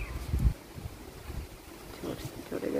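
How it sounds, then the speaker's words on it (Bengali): Strong wind gusting outdoors, a rough, buffeting rumble rising and falling across the mic, with faint voices in the background. "কি জোরে জোরে হাওয়া হচ্ছে"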